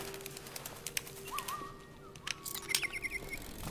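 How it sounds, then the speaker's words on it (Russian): Mechanical birds in the video game Detroit: Become Human chirp and warble in short bright bursts over a steady ambient hum, with a few quick trills near the end. "у них даже птицы не настоящие"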